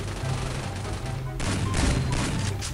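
Rapid XM8 rifle fire rings out in a shooter video game: a steady background of gunfire, then a string of sharp, closely spaced bursts that grow louder in the second half.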